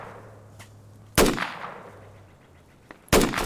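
Two sharp, loud gunshots from Insurgency gameplay with a marlin lever-action rifle, each a sudden broadband crack with a ringing tail, about two seconds apart over faint ambient hum.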